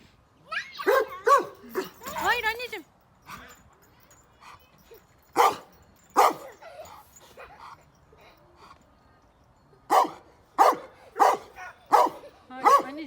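A dog barks in sharp bursts, some single and some in quick runs, with whimpering yips between and a voice speaking nearby.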